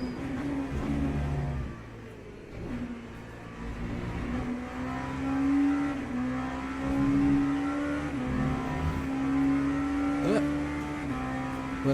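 Engine of a GT3 race car in a racing video game, droning steadily for the whole stretch and rising and falling in pitch as it revs up and shifts, close and loud.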